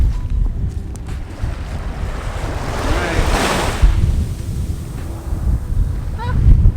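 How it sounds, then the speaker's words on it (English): Surf breaking on an open ocean beach in Nova Scotia, a continuous wash of waves swelling and receding with steady wind buffeting the microphone and no voices. "I mean, straight up open ocean."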